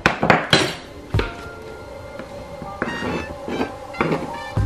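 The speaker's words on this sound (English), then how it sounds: "Now I will cut my onion," Knife chopping an onion on a cutting board in a home kitchen, a handful of sharp, close knocks spread unevenly over a few seconds with quiet clinks in between.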